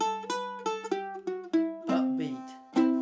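Mandolin picking a syncopated phrase from Sail Away Ladies, an octave jump then a scale running down, several bright plucked notes with ringing decay in an uneven rhythm, close and solo.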